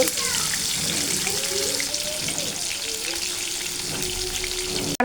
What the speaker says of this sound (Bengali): এই যে এখানে আমি মুরগি ভেজে নিচ্ছি